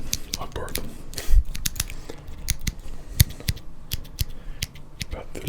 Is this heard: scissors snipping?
yes